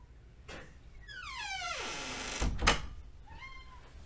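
A pet cat lets out several meows indoors, one long drawn-out call followed by a shorter one, with a soft thump in between.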